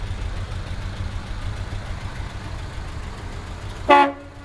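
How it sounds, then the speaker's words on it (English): A single short toot from the horn of an original 1941 Ford two-door sedan, loud and close near the end, following a steady low engine idle. "There's the horn."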